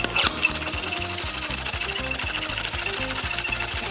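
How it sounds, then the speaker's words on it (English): A hand pump draws air out of a vacuum storage bag packed with clothes in a suitcase, pumping in fast, regular mechanical strokes with rhythmic rasping hiss, close and loud, with no talk. "we're going to do it with the hand pump just to show you you don't actually need a vacuum cleaner"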